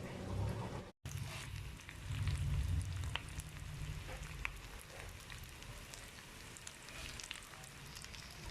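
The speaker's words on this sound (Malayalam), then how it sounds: "ഇതേപോലെ നമുക്ക് ബാക്കിയിരിക്കുന്ന കട്ട്ലറ്റ്സ് എല്ലാം നമുക്ക് ഫ്രൈ ചെയ്തെടുക്കാം" Kerala-style beef cutlets fry in oil with a soft, steady sizzle and faint crackles. The sound stays low and continuous, with a brief dropout near the start.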